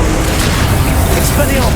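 An Accio spell in Hogwarts Legacy gives a short, loud, dense magical whoosh with a booming low rumble, sustained through the brief moment.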